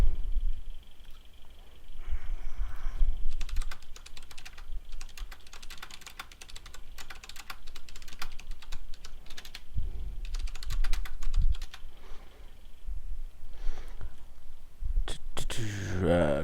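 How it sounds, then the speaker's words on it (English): Typing on a computer keyboard to write in a chat, rapid bursts of clicky keystrokes in uneven runs, close and fairly soft, with pauses and low background noise between. "I'm typing in chat"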